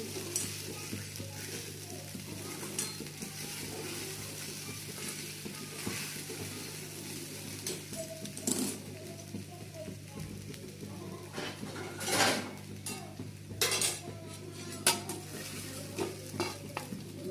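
Sabudana khichdi is stirred and sautéed in a pan, a low steady sizzle broken by scraping and occasional louder spoon knocks against the pan, close and quiet overall.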